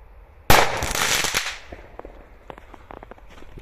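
A 100 g black-powder firecracker goes off with one sharp, loud bang that decays into a roughly second-long crackling burst, followed by scattered small pops and rustles outdoors.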